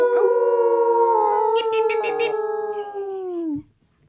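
Several people howl together in imitation of a wolf, a loud drawn-out wavering voiced howl sustained for over three seconds before cutting off sharply, close to the microphone.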